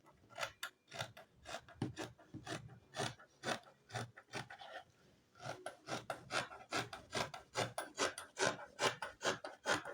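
Scissors cut through fabric for a six-piece skirt in quick, rhythmic snips with a rasping edge. The cuts are faint and close, come in a steady run with a brief pause midway, and no one talks.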